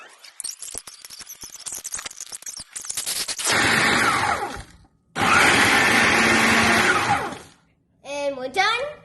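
A blender roars in two long loud bursts after some rattling and clattering, grinding cookies steadily for a cheesecake crust, then a short voice at the end.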